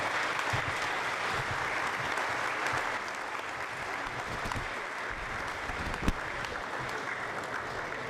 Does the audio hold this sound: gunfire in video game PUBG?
no